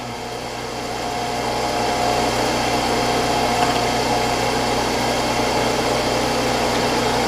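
A machine center-drills bushing plates for a match plate with a steady, loud mechanical whine and hum. It ramps up in the first second and then holds even and continuous with no talk.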